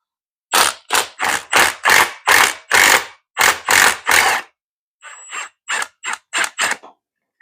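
A 14 mm socket ratchet loosens center support bearing bolts on a Ford Edge, Lincoln MKX or Mazda CX-9, giving close, loud bursts of rapid clicking: a long run of strokes, a pause, then shorter lighter strokes.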